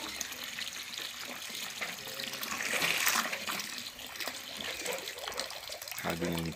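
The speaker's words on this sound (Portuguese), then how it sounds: "mais devagarzinho aí vai pegando mais uma aguinha no tanque ali" Water running steadily into a fish tank on a small farm, a continuous close gurgling flow that swells midway, with someone talking briefly over it.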